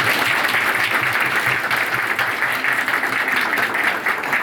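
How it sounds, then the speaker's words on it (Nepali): An audience at an engagement ceremony applauds to welcome the couple, a steady, loud and sustained round of clapping from many hands. "हामी सबैले एकले अर्कालाई ताली बजाएर हामी स्वागत गर्नेछौँ"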